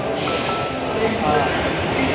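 A train rumbles and hisses steadily nearby at Pune railway station, with a faint squeal of wheels and a low, continuous roar, as if standing close to the platform.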